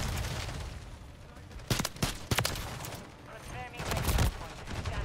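Gunfire from the video game Modern Warfare 3, with sharp shots and bursts ringing out over constant battlefield noise, some heavy impacts near the middle and end.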